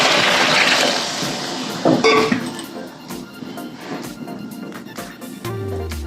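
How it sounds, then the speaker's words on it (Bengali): Water poured into a pan of spiced potatoes cooked down with masala, a steady splashing fill with a clink of pot or utensil around the middle, close by, with no talking. "এবার আমি পরিমাণ মতো আলু সেদ্ধ হওয়ার মতো জল দিয়ে দেবো।"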